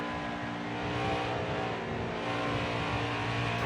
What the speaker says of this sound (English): You can just hear the car just revving out